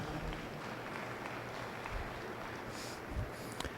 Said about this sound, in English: if you could please give these exhibitors a big round of applause